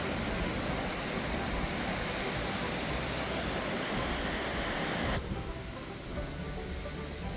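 Waves and wind roar steadily on an empty Michigan beach at a county park, a dense, loud wash of surf and gusting noise that continues unbroken, easing slightly toward the end.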